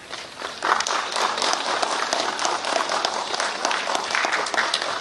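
An audience claps for the release of a document and booklet at a public government function: dense, sustained applause from many hands, close and fairly loud throughout.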